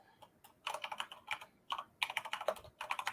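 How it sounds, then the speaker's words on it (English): Rapid clacking of a mechanical keyboard, close up, in bursts of quick keystrokes with brief pauses between them. "that's what happens when you have a real keyboard that's mechanical"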